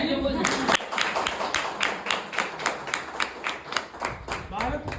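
An audience at a workshop claps in a steady run of sharp, evenly spaced claps that carry on through most of the moment, with voices talking underneath.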